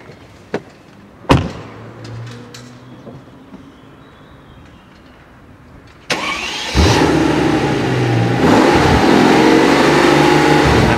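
A Mercedes SLS AMG sits quiet with a few door and cabin clunks, then its engine fires up with a sharp bark, idles loudly and revs as it pulls away, close and powerful.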